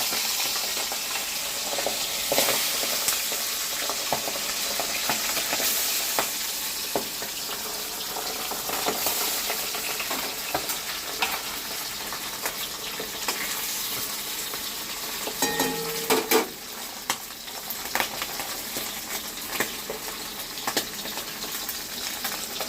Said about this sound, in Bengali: তেলটা হয়ে গেছে, এবার আমি মাছগুলো ভেজে নিচ্ছি।